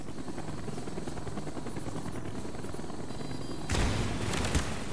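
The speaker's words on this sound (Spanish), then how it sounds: "¡Use el Strela contra los helicópteros!" Helicopters in a Call of Duty: Black Ops battle give off a continuous rotor thrum, and a loud explosive burst breaks in near the end.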